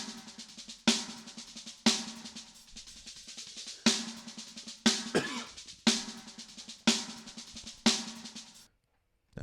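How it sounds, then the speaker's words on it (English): A snare drum played on a drum kit during a mix, its snare top and bottom mics heard as sharp, evenly spaced loud hits about once a second, each with a short ringing tail, before a brief silence at the end. "That's the sound of my snare"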